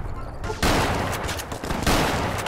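Dense, loud gunfire in the Fallout New Vegas video game, with two heavy bursts of rapid shots, a brief dip between them and more firing right after.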